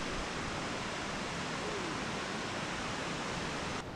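Bridal Veil Falls, a waterfall about 120 feet tall in Dupont Forest, North Carolina, heard as a steady, dense rushing roar of falling water that stays constant throughout and drops off only at the very end.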